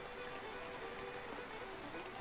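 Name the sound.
rain in the video game Medieval Dynasty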